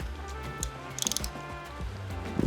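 Quiet ratcheting clicks from a ratchet driving a 13mm socket on motorcycle sprocket bolts, with a quick burst of rapid metallic pawl ticks in the middle and a clunk at the end.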